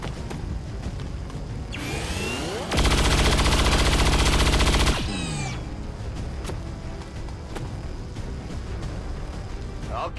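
Gunfire in the video game XCOM 2, a loud sustained mechanical burst lasting about two seconds, rising from and falling back into a steady background hum, with a few sharp clicks afterward.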